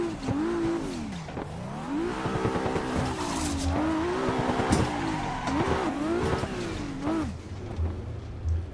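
A car drifts in the Assetto Corsa racing simulator, its engine revving up and down in wavering pitch while tires squeal continuously through the slides, loud and sustained throughout.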